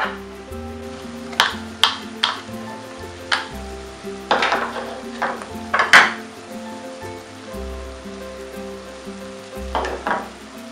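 Chopped onion, green chili and crushed ginger-garlic sizzle steadily in a hot pan for an old Koli dried baby prawn recipe, broken by a few clinks and scrapes of a stirring spoon.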